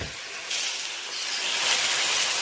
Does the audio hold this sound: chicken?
no